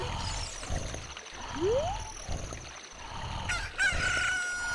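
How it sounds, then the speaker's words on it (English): A newly hatched chicken crows in the video game Zelda Ocarina of Time, a short rising cock-a-doodle-doo cry, then a brief chime, over steady background game music. "Look, a chicken hatched from the egg you were incubating."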